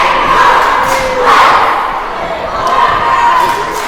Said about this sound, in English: This is a FREIRE cheer team.